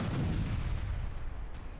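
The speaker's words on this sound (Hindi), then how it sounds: "सेंट पीटर्सबर्ग में जोरदार धमाका किया गया।" A loud explosion booms during a night drone attack on a residential area of St. Petersburg, a heavy low rumbling blast that fills the whole stretch and slowly fades, with no talk.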